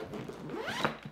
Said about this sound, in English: The zippers again are just buttery smooth. Open her up.